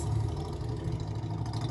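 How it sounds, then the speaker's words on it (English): A loud small motorbike engine droning steadily with a low, buzzy rumble, sustained throughout and somewhat distant and muffled, with no talk over it. "What a loud little motorbike."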